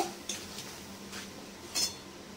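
A spoon stirs Kashmiri red chilli powder and turmeric into hot oil in a pan, giving a few faint scraping clinks of metal against the pan over a quiet, low background.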